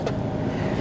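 A carbureted gray-market car imported from Japan running just after firing up, a steady low rumbling engine drone, loud and close, with no speech.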